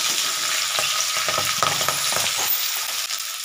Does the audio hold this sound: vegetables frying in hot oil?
yes